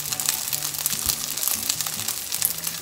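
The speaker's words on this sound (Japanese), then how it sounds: "これでね、焦げ目がついたらひっくり返して、側面も焼いていきます。" Rice balls frying over low-to-medium heat in a large frying pan, a steady dense sizzle with crackles and faint low clatter running throughout, close and fairly loud.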